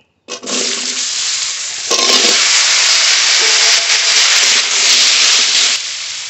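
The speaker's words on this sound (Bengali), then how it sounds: "মাছ ভাজার তেলেই আলু ভেজে নেব।" Cut, washed potatoes drop into leftover fish-frying oil and sizzle loudly, a steady broadband hiss that swells after a couple of seconds and holds to the end, with no talking.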